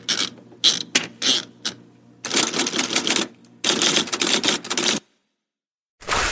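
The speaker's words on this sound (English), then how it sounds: "That's the sound of me prepping dinner with Reynolds Wrap." Crinkly, crackling bursts of Reynolds Wrap aluminum foil being handled while preparing dinner, in several irregular stretches separated by brief pauses, close and fairly loud.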